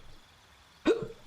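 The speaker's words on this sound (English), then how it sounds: "And the hiccups." A single sharp hiccup, close and fairly loud, breaks an otherwise quiet room with faint background hum.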